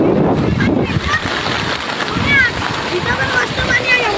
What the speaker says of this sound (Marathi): सोम्याने आता पाणी सोडलंय.